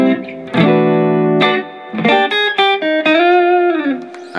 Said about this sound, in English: So again, we got the Stratocaster in hand, we're tuned up, and we have just a clean tone